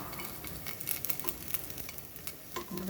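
Paneer balls sizzle and fry steadily in oil in a pan, a close, continuous crackling hiss with small pops and occasional stirring clicks.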